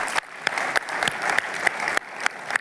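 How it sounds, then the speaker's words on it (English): A conference audience claps steadily after a fireside chat at a Microsoft data security session, a dense, even wash of applause with a few sharper individual claps standing out. "Another round of applause for these guys."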